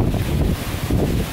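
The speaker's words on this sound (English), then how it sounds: "It's still windy as hell." Strong storm wind buffets the microphone in a steady, roaring rush with low gusty rumbles, continuous throughout and with no voices.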